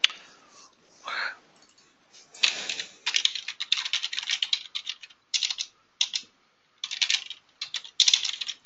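Someone types on a computer keyboard in close, irregular bursts of rapid key clicks separated by short pauses, with faint voices at times.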